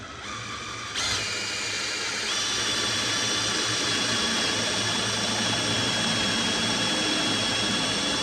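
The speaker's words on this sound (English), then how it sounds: "Try and hold this drill about as straight as you can." A power drill starts with a sudden whir and keeps running steadily, a high, constant motor whine with grinding as the bit bores into a black locust wood file handle.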